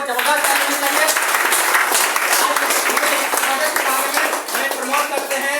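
A crowd applauds at a Hindi-speaking public event honouring a woman on stage, with steady, dense clapping that stays loud and even throughout, while speech-like voices carry on over it.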